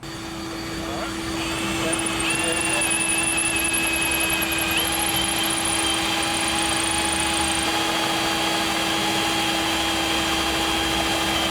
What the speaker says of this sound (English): We finished our first hole saw cut here.